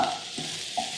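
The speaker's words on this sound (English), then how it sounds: "See how my sausage browns up really quickly like that?" Sausage browning in a hot pan over high heat gives a steady, close broadband sizzle, with faint stirring scrapes now and then and no voices.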